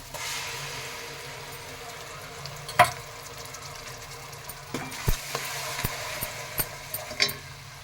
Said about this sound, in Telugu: అల్లం పేస్ట్ వేసి వేయించాలి